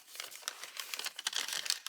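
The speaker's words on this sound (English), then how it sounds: "Scotch tape." Scotch tape being pulled off a roll and torn, a quiet, close crackling and crinkling that runs continuously for a couple of seconds with small sharp ticks.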